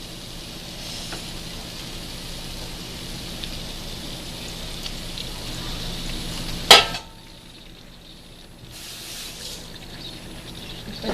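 Chicken sautéing in a pan for chicken biryani makes a steady crackling sizzle with scraping stirs, then a sharp loud clatter near the middle, after which the frying continues more quietly.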